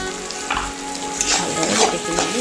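Soybean pieces tossed with coriander, cumin and chili powder in a hot frying pan give a steady sizzle, with close scraping strokes of a spatula surfacing every half second or so.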